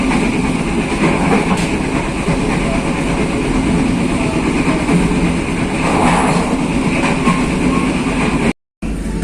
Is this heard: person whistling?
no